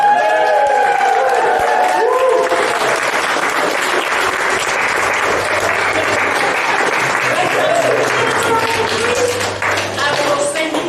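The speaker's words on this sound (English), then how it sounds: "welcome them with your warmest applause and cheers" Wedding guests at Belladrum Festival clap and cheer for the newly announced bride and groom. The applause is loud, dense and sustained, with a crowd roar throughout.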